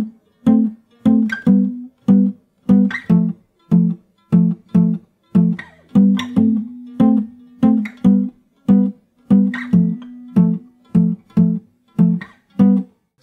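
Fingerstyle acoustic guitar playing the intro of a song, steady plucked chord patterns in a regular rhythm, close and clear, with no voice.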